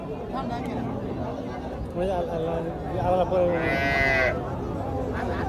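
A cow lets out a couple of low, drawn-out moos close by while people chat in the background at a cattle market by the Jamalpur ferry ghat.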